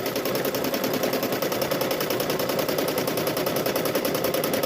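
A sewing machine free-motion quilting fabric for a tote bag, running steadily with a fast, even needle rattle that stays loud and constant throughout.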